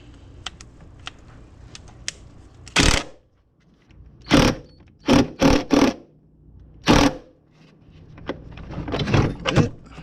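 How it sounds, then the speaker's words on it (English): An impact wrench tightens a lock nut on a subwoofer enclosure during a car audio install, firing in several loud, short bursts of hammering with quiet gaps between them. "we're going to reach over and grab our impact wrench"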